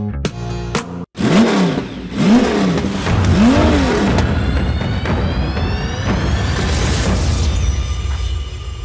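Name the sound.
Mitsubishi Outlander Turbo engine revving on track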